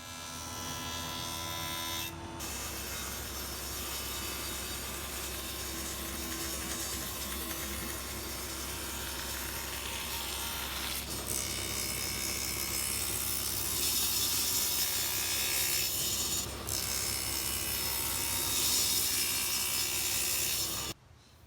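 A power tool trims and flattens the outside edges of glued wooden serving tray panels, making a continuous loud mechanical whir and rasp that shifts in tone partway through and stops abruptly at the end.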